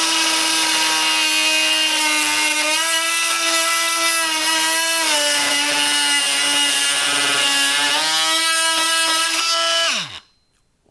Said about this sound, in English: we plunged as deep as we could with this blade. I mean, this is Doug fir, but it cut through there like butter